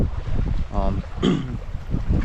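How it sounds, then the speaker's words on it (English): Gusty wind rumbles against the microphone, with a brief voice sound breaking through partway. "it's really windy"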